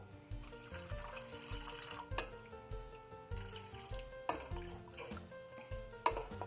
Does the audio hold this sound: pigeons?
no